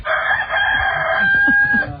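A rooster gives one loud, close crow, a drawn-out strained call that rises and then trails off over faint low background noise.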